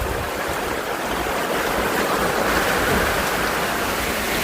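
Heavy rain pours in a dense, continuous roar, loud and unbroken throughout, with no voices.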